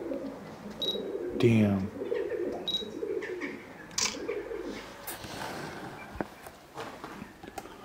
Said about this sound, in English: Pigeons are actually inside the ceiling. I heard them.